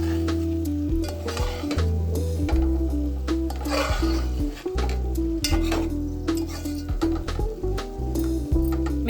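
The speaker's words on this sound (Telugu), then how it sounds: "కొంచెం కారం, కొద్దిగా ఉప్పు వేసి కలుపుకోవాలి. దగ్గర అయ్యే వరకు కలుపుకోవాలి" Leafy greens frying in a pan with chili powder and salt, stirred with a utensil that scrapes and clatters against the metal over a steady sizzle, close and continuous with no talking.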